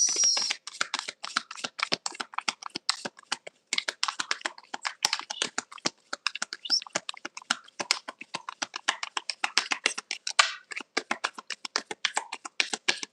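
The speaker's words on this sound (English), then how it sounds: "All right, 2 more shuffles." A tarot deck gets shuffled for several seconds, its rapid dry card flicks clattering in close, uneven bursts, with no voices over it.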